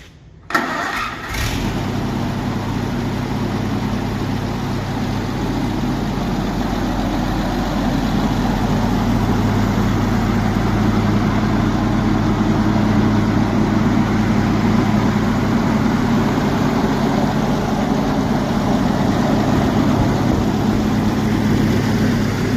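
A 1952 Oliver 88 tractor engine cranks and catches, then settles into a loud, steady, close running rumble that holds evenly for over twenty seconds.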